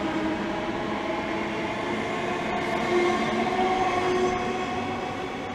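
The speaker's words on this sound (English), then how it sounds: "And now passing by is 1 Foxtrot 40, the 1720 service to Whittam by Greater Anglia." A Greater Anglia passenger train runs through Romford station, a loud, sustained rolling rumble of wheels on track with faint squeal and steady roar throughout, close by and without any talking.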